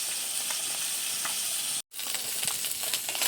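Fish frying in oil over a wood fire, a steady close sizzle with crackling bursts, briefly cut by a moment of silence before the hiss resumes.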